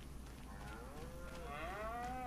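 Cows in the Farming Simulator 25 farming game moo in long, drawn-out calls that rise and fall, clear over a steady low hum.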